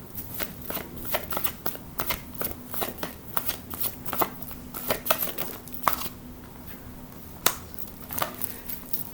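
Tarot-style angel blessing cards being shuffled, a steady run of crisp riffling flicks and soft slaps with a low hum underneath, close and fairly quiet, no talk.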